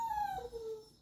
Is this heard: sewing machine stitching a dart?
no